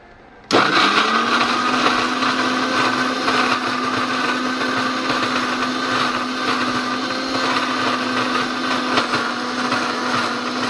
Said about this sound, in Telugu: ఇప్పుడు పాలు వేసి బ్లెండ్ చేసుకుంటాం.